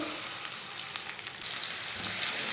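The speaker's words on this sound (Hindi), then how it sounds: "प्याज को हल्का सा ब्राउन कर लेंगे।" Finely chopped onion frying in hot oil while browning for an arbi curry, a steady close crackling sizzle with faint stirring, no voices.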